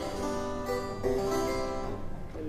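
A harpsichord's 4-foot string set, tuned an octave higher, plays alone in a Baroque style, giving a bright, thin plucked tone in a continuous flowing line.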